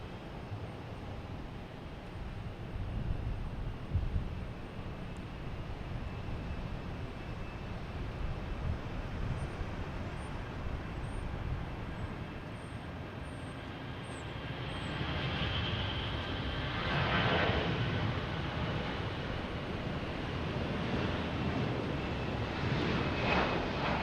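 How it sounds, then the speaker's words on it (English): A Lufthansa Airbus A340-300 takes off from runway 22 right at Boston Logan Airport, its engines a steady loud roar with broadband rumble that swells further in the final seconds, heard alone without talk. "Sorry, A340-300. Taking runway 22 right."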